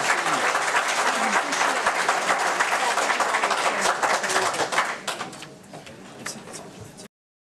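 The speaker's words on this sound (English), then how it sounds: "let's have a round of applause for our three candidates" Sustained applause from a candidate forum audience for three State Treasurer candidates, dense and steady for several seconds before thinning to scattered claps and fading out.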